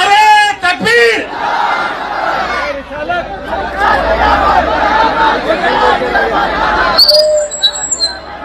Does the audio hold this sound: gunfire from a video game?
no